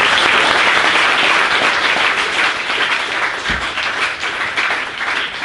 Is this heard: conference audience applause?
yes